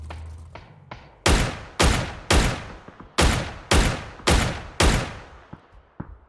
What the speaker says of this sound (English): Some warning shots there.